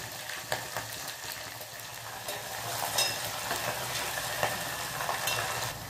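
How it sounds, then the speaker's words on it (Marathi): Green chillies fry and scorch in a hot pan with a steady, bright crackling sizzle and occasional sharper pops, close and moderately quiet, with no voices. "हिरव्या मिरच्यांना चटके बसू दे अर्धवट।"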